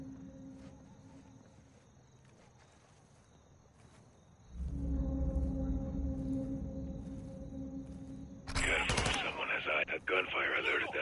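Gunfire from the Modern Warfare 2 campaign bursts in near the end, a dense loud crackle of shots over a steady low game rumble and ambient hum, after a quieter stretch with background tones.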